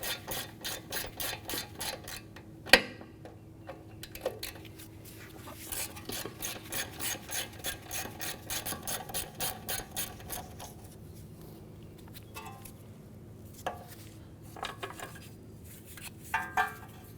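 Rhythmic metallic scraping and rasping while working off a bracket that holds the brake flex line on a 2004-2008 Acura TL, steady strokes close up with a few sharp clicks and knocks.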